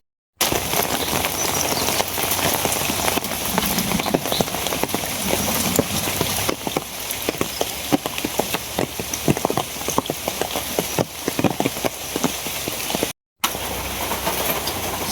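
Steady rain on a rainy day falls in a dense, even hiss, with scattered sharper drips and taps standing out through the middle and later part; no voices.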